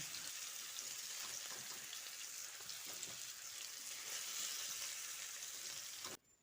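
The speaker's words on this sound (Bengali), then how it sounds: "সমস্ত কুমড়োগুলো দিয়ে মিডিয়াম ফ্লেমে অনবরত নাড়াচাড়া করে কুমড়োগুলো লালচে করে ভেজে নিতে হবে" Pumpkin pieces fry in oil over a medium flame, a steady dense sizzle and crackle close up that holds evenly before cutting off abruptly near the end.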